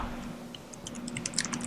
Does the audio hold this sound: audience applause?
no